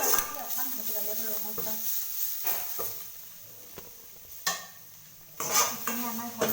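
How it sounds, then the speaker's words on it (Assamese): Bottle gourd leaves fry in a hot wok as a utensil stirs and scrapes in several distinct strokes, each with a brief sizzle and clatter, between quieter stretches; a person speaks at moments. "যিহেতু এইখিনি ভাজিব লাগিব, তাৰ কাৰণে এনেকৈ ভাজি ল'লোঁ"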